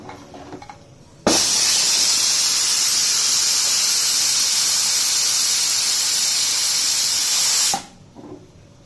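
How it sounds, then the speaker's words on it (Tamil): A pressure cooker cooking rice and dal lets out a loud, steady hissing whistle of escaping steam that starts suddenly, holds for about six seconds, then stops, with quiet kitchen sounds before and after. "விசில் வந்துருச்சுங்க, நம்ம இறக்கலாம்."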